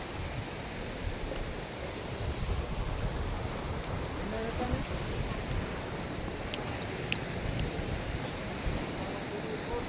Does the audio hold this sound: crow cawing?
no